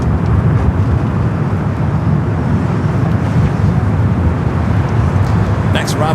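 A SkyWest regional airliner flying as Delta Connection arrives at Los Angeles International Airport, its engines a steady broad roar heard from a distance with traffic noise mixed in and people talking nearby.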